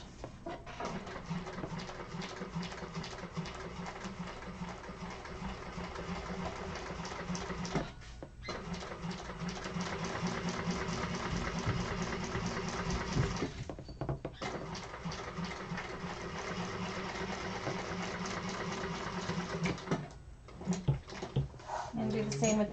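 A sewing machine runs a 1/8-inch seam on a zippered pouch exterior, a steady rapid mechanical stitching chatter in long runs with brief pauses.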